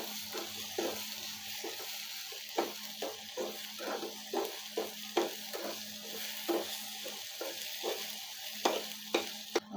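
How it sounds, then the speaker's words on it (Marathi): Onion frying in a pan until reddish for kaju masala, a constant close sizzle broken by repeated rhythmic scrapes and taps of a spatula stirring, no voices. "आता असा आपला कांदा लालसर होईपर्यंत भाजायचा आहे।"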